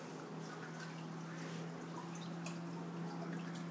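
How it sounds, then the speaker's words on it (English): An aquarium return pump pushes water back into the tank of a Bean Animal overflow setup, giving a steady low hum under a continuous close trickle and drip of water, with no talking. "we're pumping water back into the tank now"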